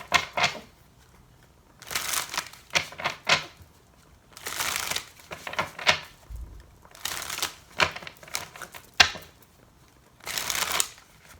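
Mystic Moon Oracle deck cards being shuffled in bursts of crisp riffling and flicking, several separate rounds with quiet pauses between, close and clear.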